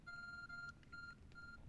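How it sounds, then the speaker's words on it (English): An Arc Phone in a Pokémon video game beeps in a short electronic tone pattern, several rapid two-tone bleeps repeating in quick bursts, clear and close. "The Arc phone is beeping."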